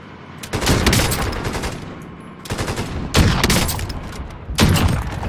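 Bursts of rapid automatic gunfire from a Call of Duty Warzone match, with loud close rattling volleys starting and stopping in three or four clusters.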